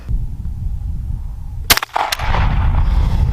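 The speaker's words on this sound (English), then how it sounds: "let's shoot the bastard." A single loud, close 12 gauge shotgun blast fired outdoors, a sharp crack followed by a second quick report and lingering rumble over steady wind-like background noise.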